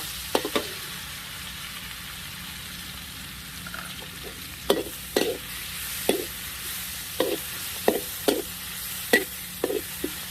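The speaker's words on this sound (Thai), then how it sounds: "ผัดให้หอมก่อนเลย เริ่มหอมแล้ว" Garlic stir-fried in hot oil with salt in a home kitchen, a steady low sizzle broken by repeated sharp scrapes and clacks of a spatula against the pan, growing busier in the second half.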